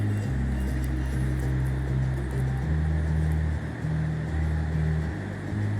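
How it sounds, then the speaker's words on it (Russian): A river rushes below in the dark in the Kullu valley of the Himalayas, a steady broad roar of flowing water that holds unbroken throughout, with a low rumble underneath. "вы услышите шум реки"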